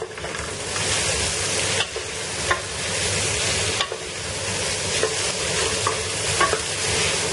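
Cashews and raisins fry in a pan while being stirred for a biryani, giving a steady close sizzle with scraping stir strokes and small spatula knocks scattered throughout.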